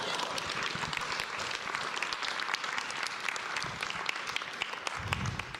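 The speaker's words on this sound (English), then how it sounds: "You guys are good clappers." Audience applause at a comedy show fills the room, a steady wash of clapping held at even strength for several seconds, with a little talk underneath.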